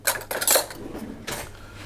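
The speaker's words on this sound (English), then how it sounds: "I'm going to add in my cranberries, and I'm just going to take a spoon" A spoon knocking and scraping against a mixing bowl while dried cranberries are stirred into shortbread dough, a few quick clattering strokes close by, then a softer scrape.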